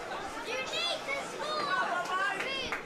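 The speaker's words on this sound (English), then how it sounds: "Crowd just giving their encouragement" Supporters at a non-league football match between Hampton & Richmond and Chippenham shout encouragement, scattered raised voices and calls carrying over a steady murmur of crowd noise at moderate distance.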